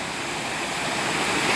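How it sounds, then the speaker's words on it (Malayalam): A small waterfall at Arikkal rushes steadily in the open air, a continuous broadband hiss of falling water holding an even level throughout with no voices. "ഇവിടെ നിന്ന് കഴിഞ്ഞാൽ നല്ല അടിപൊളിയായിട്ട് വെള്ളച്ചാട്ടം കാണാൻ പറ്റും. ചെറിയൊരു വെള്ളച്ചാട്ടം"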